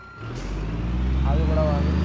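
A bus in BeamNG Drive idles and rumbles with a low steady engine drone, an air-brake hiss near the start, while people talk over it.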